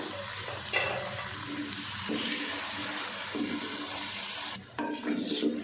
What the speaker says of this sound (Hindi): चिकन को 3 से 4 मिनट हमने अच्छे से भून लिया है।